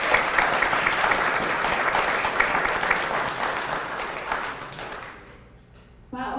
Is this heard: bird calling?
no